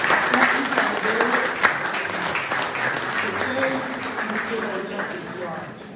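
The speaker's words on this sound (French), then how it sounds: "Si on peut applaudir pour Elisabeth." An evening audience applauds an artist named Elisabeth with a dense, sustained round of clapping from a crowd, loud and continuous with faint voices mixed in before it tapers off.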